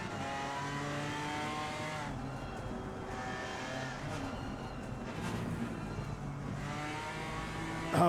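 A GT4 race car in a sim racing league round at Bathurst, engine revving and dropping with gear changes under heavy braking, steady and loud throughout, with a faint tire squeal hinting at a lock-up.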